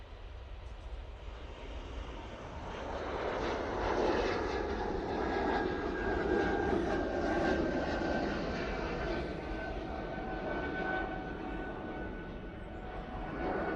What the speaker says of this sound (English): we do have the Air France A220